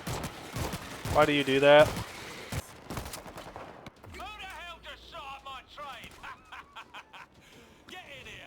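Gunfire from a teammate in the World War Z zombie shooter, rapid bursts crackling around loud, agitated talk and a brief laugh, with the shots mostly sitting under the voices.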